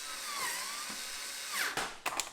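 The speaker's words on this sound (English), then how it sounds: "This little drill doesn't hold a lot of power" A small cordless power drill drives 5mm bolts on a Honda Goldwing motorcycle, giving a steady high whine with pitch sweeps, then a few short bursts and clicks as it stops and restarts.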